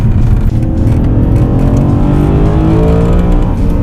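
A BMW M3 E92 with the DKG dual-clutch gearbox, heard from inside while driving, its V8 engine droning loudly and steadily as the revs climb smoothly under a constant, close, rumbling roar, with no talking.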